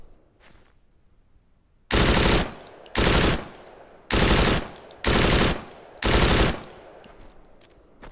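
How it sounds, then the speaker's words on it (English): An MG 35/36 machine gun fired in the video game Deadside, five loud, close bursts of rapid automatic fire, each lasting under a second, separated by short pauses, with no voices. "the MG 35 or 36"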